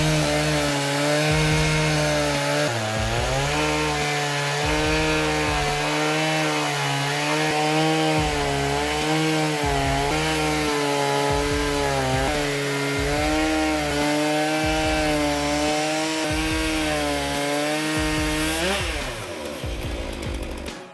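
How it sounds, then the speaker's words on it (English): A Logosol F2 portable chainsaw sawmill cuts through a log with a loud, steady, high-pitched chainsaw whine, close by. The engine pitch wavers slightly through the pass and drops near the end. "The Logosol F2 is a compact portable sawmill, ideal for woodworking enthusiasts."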